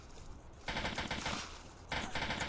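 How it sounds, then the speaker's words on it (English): Automatic weapon fire in the Roblox game Polybattle, two loud rattling bursts separated by a short gap, following a quieter stretch of background game noise. "They're shooting!"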